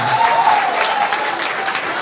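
An audience at an indoor gathering gives steady, dense applause for about two seconds. The clapping stays even and fairly close throughout.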